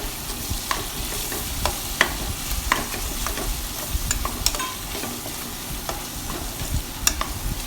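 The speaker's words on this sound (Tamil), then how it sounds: "அது கூட வேக வச்ச மட்டன் போட்டு நல்லா கலந்து விடுங்க" Cooked mutton is stirred into spiced oil frying in a pan for Dindigul Thalappakatti biryani. A steady sizzle runs under frequent sharp spoon scrapes and clacks, close and alone.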